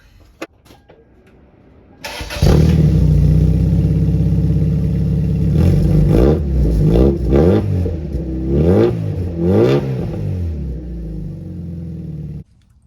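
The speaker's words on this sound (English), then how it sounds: "let's run the car with a exhaust that goes right here" A Toyota Celica engine with a short exhaust fires up and idles with a deep, throaty rumble, then revs sharply several times in quick bursts before cutting off, loud and close.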